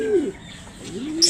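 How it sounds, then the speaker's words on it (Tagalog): Pigeons in a loft, a short close coo sliding in pitch, followed by a faint flutter. "Ito yung mga kalapatids natin, no?"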